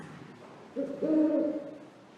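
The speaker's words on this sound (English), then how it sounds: "It's only a bird, silly. It's an owl." An owl gives one hoot, a low drawn-out call that swells and fades, close by against a quiet background.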